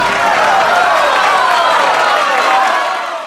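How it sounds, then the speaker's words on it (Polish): Warm audience applause on stage after a boy's song, a dense, even wash of clapping that holds for about three seconds and tapers slightly at the end. "Gorące brawa."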